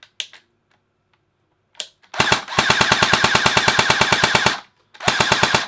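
An airsoft replica fires in full-auto, worn and lacking power: a few faint clicks, then one long rapid burst of sharp evenly spaced shots, a pause, and a second burst, all close and loud.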